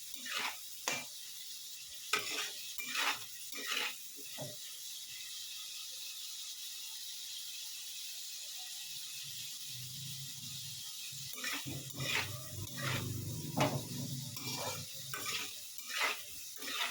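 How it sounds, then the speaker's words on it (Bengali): Potatoes fry in a pan and are stirred with a spatula, giving intermittent scraping strokes over a soft, steady sizzle that swells louder toward the end. "আলুটা একটু লাল করে ভেজে নেব।"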